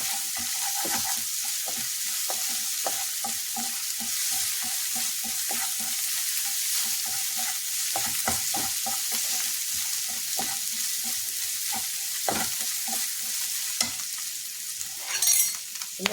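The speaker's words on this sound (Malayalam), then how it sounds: "ആദ്യം നല്ല പോലെ നിന്ന് ഇളക്കി കൊടുത്തേക്ക്" A frying mixture is stirred in a pan, and the steady sizzle is broken by frequent light scraping and tapping strokes in an uneven rhythm. Near the end come a few louder knocks.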